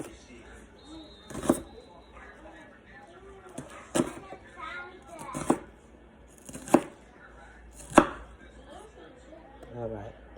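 A knife chopping onion into small pieces on a cutting board for homemade beef chili, sharp distinct thwacks spaced a second or two apart, close and fairly loud, with quiet kitchen sounds between strikes.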